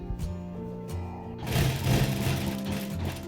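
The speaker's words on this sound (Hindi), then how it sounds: "अब यहाँ पर दोनों सिरों पर हम सिलाई लगा देंगे।" A sewing machine stitches the seams of a Pakistani belt-style salwar. It whirs in a steady mechanical run after a brief stretch of music.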